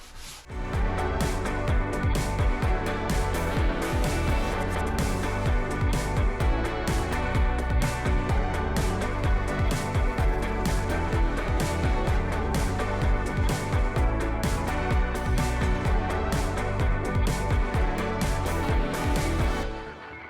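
Continuous loud rasping of wood being sanded, a steady rough scraping that runs unbroken for the whole stretch.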